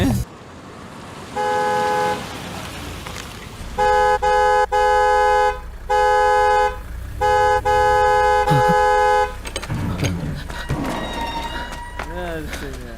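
A car horn honks in a series of long, loud blasts, some broken into short toots, followed by engine and road noise as a voice speaks.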